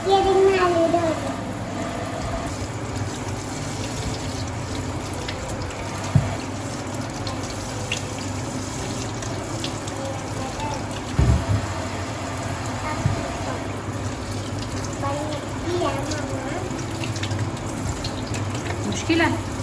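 Potatoes washed by hand under a running tap, a steady hiss of flowing water that lasts throughout, with a few faint clunks and light background noise.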